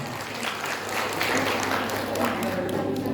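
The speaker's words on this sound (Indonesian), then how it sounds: "Tepuk tangan dong." Audience applause fills an awards ceremony for the 2022 reading ambassadors (Duta Baca) of Nagan Raya Regency, a dense, steady wash of clapping that continues evenly throughout with some voices mixed in.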